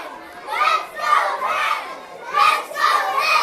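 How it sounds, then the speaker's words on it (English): Middle school kids lining a school hallway cheer and shout in loud, rising waves of excited crowd noise. Children's voices carry throughout. "The team streams into the middle school to clapping and cheers."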